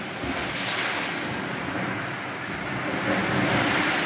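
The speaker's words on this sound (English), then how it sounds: "there's the bay right there and every once in a while you get a big uh, blast of water that hits and comes on inside" Waves surge and crash into a sea cave in a bay on Flowerpot Island, a steady loud roar of churning surf and spray with wind noise, swelling slightly toward the end.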